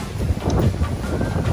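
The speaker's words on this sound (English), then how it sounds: "It's super blustery out here." Strong, gusty hurricane wind buffets the microphone outdoors in Miami Beach, a steady low roar with rough bursts throughout.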